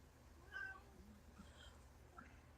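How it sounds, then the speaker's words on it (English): A cat meows faintly a few times at a distance, with short, thin calls spaced over a quiet, hissy background. "So you might hear her meowing."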